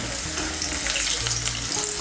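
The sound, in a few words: potatoes frying in oil with salt and turmeric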